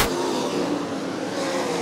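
Sprint race cars on the ASCS dirt oval at Boyd accelerating off turn 4 on a green-flag restart, a loud, dense engine roar that holds steady and close for under two seconds, with no talk.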